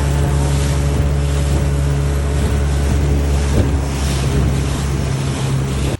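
A taxi boat motor drones steadily and loudly throughout on the Volga River at Samara, Russia, with wind buffeting the microphone and water rushing past.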